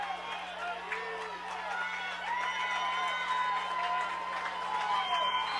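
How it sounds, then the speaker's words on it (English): A high-school varsity football crowd in the stadium stands, a broad, distant wash of cheering and voices running steadily under close announcer-style talk. "Crowd's getting into it over here on the Hicksville side of the stadium."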